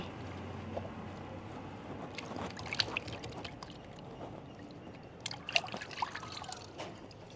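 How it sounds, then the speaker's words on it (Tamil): Tap water running and trickling over cut fish being washed, a quiet steady flow with a few light splashes and clinks, close by. "இப்போ மீனை கழுவிடுவோம்"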